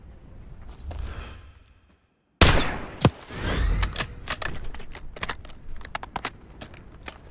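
Gunfire in the Call of Duty Black Ops 6 campaign: a loud burst breaks a short silence, then rapid cracks and clattering shots follow in quick succession at close range, with no voices.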